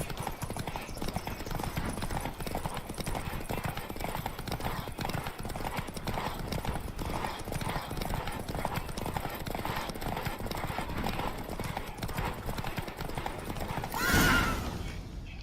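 Roach, a horse ridden in a race in The Witcher 3, gallops with steady, dense clip-clop hoofbeats running throughout, loud and close, with a brief whinny near the end.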